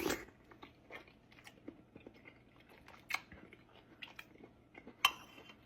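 Someone eating homemade turkey soup with sausage and broth, with soft close-up biting, slurping and chewing sounds in scattered bursts and one sharper clink near the end, no talking.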